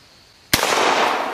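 A single loud, sharp shot from an 1866 Winchester Yellowboy lever-action rifle by Taylor's & Company cracks out after a quiet moment, followed by a broad, lingering outdoor echo.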